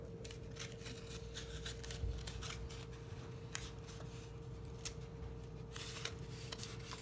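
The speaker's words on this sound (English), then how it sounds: "So now I can tape this here." Adhesive tape is applied to cut paper pieces of a handmade paper car model, producing faint crinkly rustles and short tape-pulling crackles at irregular moments. The sound stays quiet and close, with no speech.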